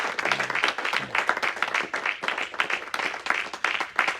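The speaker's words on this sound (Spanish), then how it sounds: "¿Cuántos damos un aplauso al Señor?" A church congregation applauds during a sermon, a dense, steady patter of many hands clapping at once that fills the room for several seconds.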